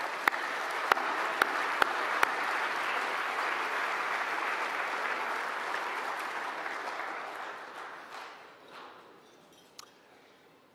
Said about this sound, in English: So let's give all those support people a well-deserved round of applause.